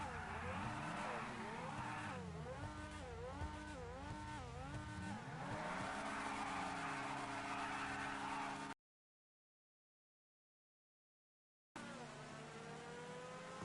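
A car engine revving in GTA V, the pitch repeatedly sweeping up and down in rapid waves, then holding steady before cutting to silence and returning as a rising rev.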